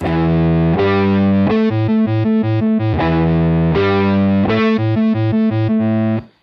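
A distorted electric guitar through a Beetronics Zzombee Filtremulator pedal in cross tremolo mode plays a choppy, pulsing riff, with notes throbbing in a fast tremolo rhythm and loud, steady sustained chords alternating between phrases.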